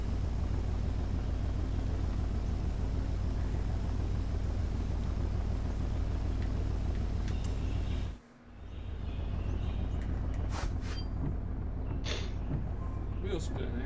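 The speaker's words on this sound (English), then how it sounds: "I was sitting with the drone beside the Ford GT. Actually really loud." Ford GT car engine in Forza Horizon 3 as a steady loud rumbling drone that cuts out briefly, then returns more faintly with scattered noises.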